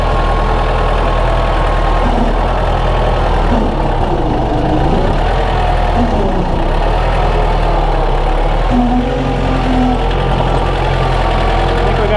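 A 110TLB tractor loader fitted with an HLA3000 blade and a large loader bucket runs its engine at a steady, loud low rumble, with a few faint wavering pitch shifts as the revs change slightly.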